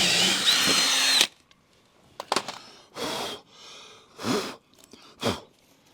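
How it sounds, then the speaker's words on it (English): A power drill bores a hole in a vardo (gypsy wagon), running in one sustained whir, then in several short, separate bursts with pauses between, close and loud. "So I'm ready to drill a hole here and here."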